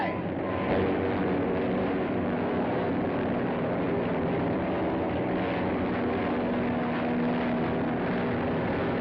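A propeller airplane drones steadily in a 1938 film soundtrack, a continuous loud engine hum with a held tonal note and faint muffled voices beneath.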